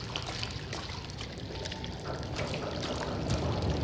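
Ink pours and trickles in the video game Bendy and the Dark Revival, a steady close liquid wash with faint splashy drips that grows slightly louder toward the end.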